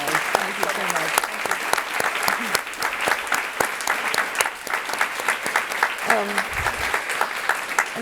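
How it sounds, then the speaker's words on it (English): An audience gives Dawn Scott a warm round of applause at a talk event, loud and sustained clapping with scattered louder claps, while a person speaks over it. "let's give Dawn a real warm round of applause"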